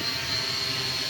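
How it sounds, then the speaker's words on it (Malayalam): A small drone flies overhead with a steady, high whine and a faint droning hum that stays even throughout, with no talking. "നമ്മുടെ ഡ്രോൺ അതാ പോകുന്നു"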